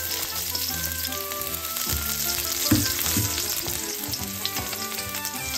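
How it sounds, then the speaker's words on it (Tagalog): Garlic fries in hot oil in a pan for pinakbet, with a close, loud, steady sizzle and some stirring clatter, and no one speaks. "Ngayon, ilagay natin ang ating bawang"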